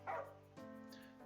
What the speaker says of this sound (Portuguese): Cachorrinho.